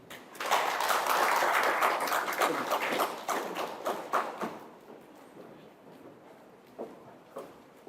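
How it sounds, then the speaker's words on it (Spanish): An audience at a medical course session on surgical patient evaluation gives brief applause, a burst of many hands that peaks early, then fades into scattered, quieter claps and trailing taps. "pedimos un fuerte aplauso para recibirlo."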